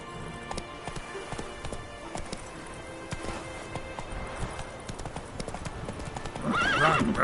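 A horse gallops in the video game The Witcher 3, steady rapid clip-clop hoofbeats running throughout, with a whinny rising near the end.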